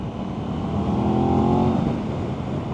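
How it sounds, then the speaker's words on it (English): An Aprilia RS660 motorcycle engine's deep induction and exhaust roar, steady and close, swelling slightly in the middle as it revs. "Wow, that induction and exhaust."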